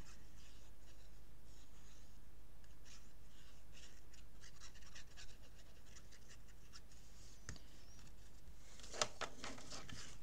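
Glue paste is spread across album paper, giving a faint, soft scratching and rubbing that runs steadily, with a few sharper scrapes and a small tap near the end.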